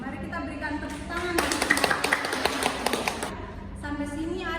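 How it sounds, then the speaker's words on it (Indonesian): Students in a classroom clap for about two seconds after a group presentation, a short burst of scattered hand claps between stretches of speech. "Mari kita berikan tepuk tangan"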